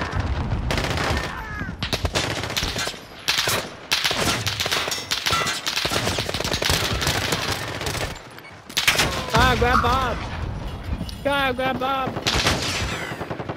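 Rapid automatic gunfire and single shots from the video game Call of Duty: Modern Warfare crackle in dense, loud bursts for the whole stretch, with short pauses between volleys and a player's voice calling out over the shooting.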